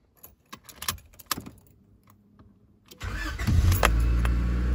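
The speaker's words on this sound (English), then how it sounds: "we'll go to the on position and we'll try and start the car." Keys jangle and click in the ignition, then a car engine cranks and catches, settling into a steady loud idle.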